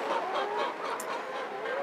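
Laying hens packed inside a winter house, a dense, continuous chorus of clucking and murmuring close by, steady throughout with no talk.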